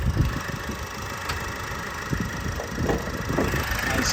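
A Vauxhall Astra engine idles steadily under its open bonnet, a faint, even mechanical hum with light ticking, heard alone without talk.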